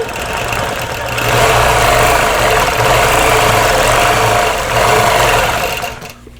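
A sewing machine runs continuously while quilting a Dresden plate table runner. It gives a loud, close, even mechanical whir with a rapid stitching rhythm that slows briefly near the end and then stops.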